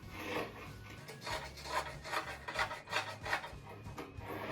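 Scissors or a rotary cutter trimming the fabric edge of a patchwork rug, about two centimetres from the border, giving a soft, steady rasping and rubbing close by with no talking.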